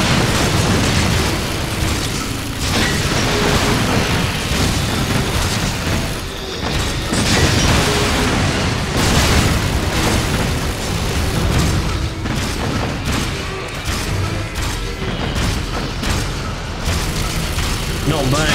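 Explosions in the PS3 game Metal Gear Solid 4: Guns of the Patriots, loud continuous booms and bursts layered over one another, with a voice talking over them.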